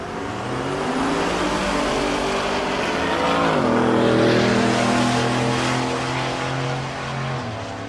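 A Nova drag car on rally wheels launches down the strip at Tulsa Raceway Park, its engine roaring loud and close and climbing through gear shifts across several seconds.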